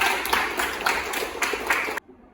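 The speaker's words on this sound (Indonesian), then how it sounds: "Ya, kita beri tepuk tangan semuanya." A classroom of pupils clapping together for a classmate, brisk and fairly close, with a few rhythmic bursts standing out before the applause stops abruptly after two seconds.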